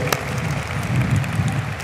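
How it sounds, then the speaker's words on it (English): An audience at a county State of the County address at a pavilion applauds a musician, with steady crowd clapping under a low hum of murmuring voices and room noise. "give him a round of applause again"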